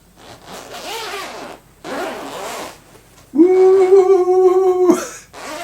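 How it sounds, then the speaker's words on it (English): Zip on a guitar case or gig bag being opened after an unboxing, a couple of short scratchy tugs followed by a long, loud rasping pull that ends abruptly. "trying to find the zip"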